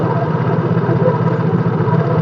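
A Yamaha Mio J scooter engine idles with its battery disconnected, running on a capacitor alone: a steady, loud, close mechanical hum with a fine rapid rattle and no break or change in speed.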